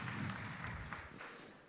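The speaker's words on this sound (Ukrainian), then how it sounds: "So, you can clap if you like." Brief, faint applause from an audience at a Mi 8 Lite phone presentation in Ukraine, a soft patter of clapping that fades quickly.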